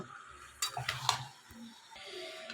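Chicken pieces stirred into spices and potatoes in a pan for a home chicken curry: a few quick scraping, clattering bursts of spoon against metal over a low, steady sizzle, close by, with no talking.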